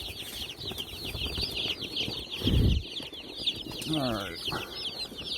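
Chickens clucking and squawking close by during a bird delivery, with a brief wing flap or scuffle and a short spoken word mixed in.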